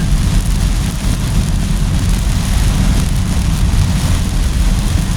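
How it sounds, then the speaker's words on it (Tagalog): Steady heavy rain pours down in a continuous dense hiss with a deep low rumble, loud and close throughout, no voices present. "Naabot ng ulan."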